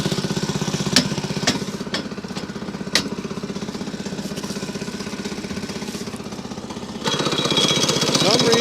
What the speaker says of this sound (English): for some reason my engine don't want to idle down